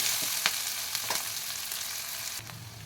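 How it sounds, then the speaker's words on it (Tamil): Onions sauté in hot oil with mustard seeds, cumin and curry leaves, giving a steady close sizzle with a few stirring scrapes over a short stretch. "கடுகு சீரகம் போட்டுக்கலாம் இப்போது கருவேப்பில் கொஞ்சம் வெங்காயம் ஒரு ரெண்டு கட் பண்ணி வச்சுக்கிறேன் போட்டுக்கலாம் எல்லாம் நல்லா வதக்கலாம் வெங்காயம்லாம்"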